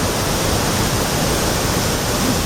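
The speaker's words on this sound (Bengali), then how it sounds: "আমরা এখন বরবিন্দু ওয়াটারফলসের সামনে দাঁড়াচ্ছি।" Borbindu waterfall in Meghalaya roars as a steady, dense wash of rushing water, loud and close, with no voices over it.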